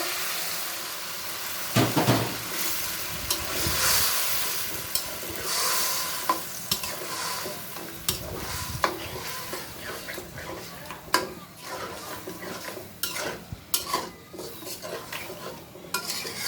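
Boiled taro leaves go into a hot frying pan with a burst of sizzle, then a spatula stirs them repeatedly, sharp metal scrapes and clinks sounding over continuous frying hiss.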